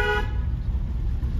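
A car horn sounds during a driving lesson, with one short, bright toot at the start over the low rumble of the moving car, after which only the engine and road noise continue.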